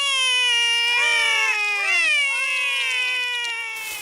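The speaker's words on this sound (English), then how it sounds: "The kittens are Holly and Fleur." Cartoon kittens meow in a steady run of high, wavering cries, several overlapping calls rising and falling close up with no talking.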